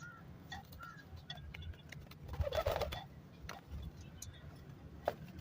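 Soft pigeon coos and light fluttering as pigeons gather at water, over a low background murmur, with a few scattered ticks and small splashy bursts near the middle.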